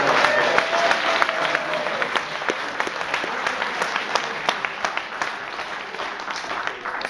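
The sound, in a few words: audience applause for a speaker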